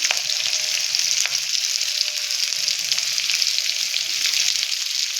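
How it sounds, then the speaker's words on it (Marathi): Whole spices such as cinnamon and peppercorns frying with chopped onion in a pan for green chicken curry, a loud, steady, close sizzle with faint stirring clicks, continuous and without talking. "खडे मसाले घेतलेले ते टाकून घेऊया. कांदा चिरलेला आहे ते टाकूया."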